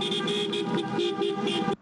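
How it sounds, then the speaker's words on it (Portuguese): Car horns blare in a sustained, overlapping chorus from a convoy of app drivers protesting fuel prices, loud and close for nearly two seconds before cutting off abruptly. "Dezenas de carros enfileirados e muita buzina para chamar atenção."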